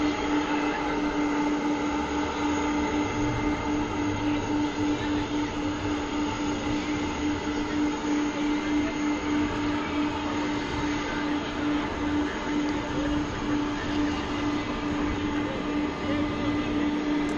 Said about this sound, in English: So UPS with their MD-11 aircraft here.